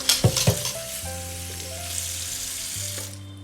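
Raw jackfruit pieces simmer in a pan with a soft, steady sizzle and bubbling as the water cooks off, with a faint hum beneath.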